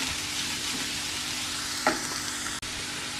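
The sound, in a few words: onions frying in a pan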